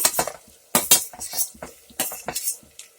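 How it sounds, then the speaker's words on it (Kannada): Chopped tomatoes going into a pan of hot oil and being stirred, with repeated scraping and clinking of a metal spoon against the pan in short, uneven bursts, close up and without talk. "ಈಗ ಟೊಮೊಟೊ ಕುಯ್ದಿಟ್ಕೊಂಡಿದ್ನಲ್ಲ ಫ್ರೆಂಡ್ಸ್, ಅದನ್ನು ಹಾಕ್ತಾ ಇದ್ದೀನಿ"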